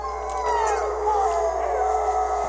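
Sled dogs howl together in long, wavering, overlapping tones that rise and fall, sustained and fairly close, in minus 32 Fahrenheit cold, with no talking.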